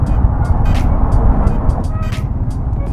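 Road traffic in a Philippine city, a loud, dense engine rumble close by, steady and unbroken, with repeated short hissy bursts on top that suggest vehicles rolling past; faint talk may sit underneath.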